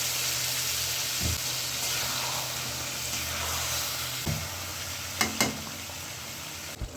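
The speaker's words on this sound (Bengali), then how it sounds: "এবার তেঁতুলের কাঠ দিয়ে আবারও কিছুক্ষণ নাড়তে হবে" Tomato chutney with jaggery simmers in a pan while a tamarind wood spatula stirs it, a steady hissing sizzle with a few dull knocks and scrapes near the end, close by.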